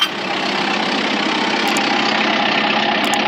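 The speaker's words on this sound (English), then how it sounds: "I'm in the tractor and I've gotten started" A tractor engine runs steadily at idle on a farm, a continuous close mechanical drone that holds at an even level throughout.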